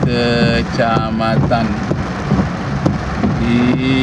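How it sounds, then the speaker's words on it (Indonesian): Heavy rain hisses steadily in Pekanbaru, Riau, Indonesia, a dense, continuous wash of noise under someone speaking close by. "Sekarang cuaca dalam keadaan hujan lebat di Pekanbaru."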